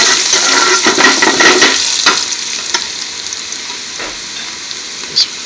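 Chopped garlic sizzles and fries steadily in a hot pan for an Indian-style spinach dish, a loud continuous crackle broken by a few brief stirring scrapes and tossing sounds.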